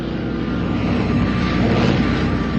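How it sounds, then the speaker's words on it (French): Several aircraft engines droning together in a steady, dense rumble, approaching from the south at dawn over the Vercors plateau near Vassieux in July; the drone holds constant and fairly loud throughout with no talking. "les maquisards sont réveillés par les vrombissements de moteurs d'avion"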